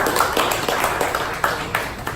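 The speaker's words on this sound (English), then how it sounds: "Give applause to yourself." Audience applause at a leadership summit, a crowd clapping steadily with dense overlapping claps and a few sharper accents, fairly close and continuous throughout.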